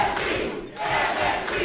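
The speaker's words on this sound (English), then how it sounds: "What's up with this crowd, Torres?" A wrestling event crowd fills the space with a steady, dense roar of voices and shouting, dipping for a moment midway before surging back; no single voice stands out.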